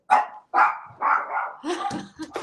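An excited dog barks close and loud indoors, three sharp barks at an even pace, then a rougher run of shorter barks and yips.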